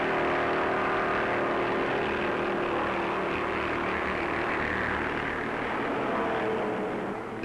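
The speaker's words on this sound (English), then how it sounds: "And here they come as the Grand National gets off to a flying start." 1956 NASCAR Grand National stock cars roar off together at the Daytona Beach race start, a dense, loud, steady engine drone that holds for several seconds and eases slightly near the end.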